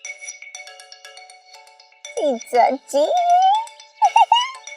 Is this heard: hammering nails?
no